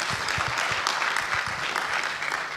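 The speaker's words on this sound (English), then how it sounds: "We can give him a better round of applause." An audience at Central Rift Innovation Week 2025 claps loudly and steadily, a dense burst of many hands that keeps going evenly from start to finish with no talk over it.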